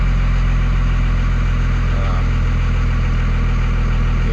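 Diesel engine fitted with a VP44 injection pump idling steadily and loud, a continuous low rumble with an even pulse and faint mechanical whine, no clear start or revving.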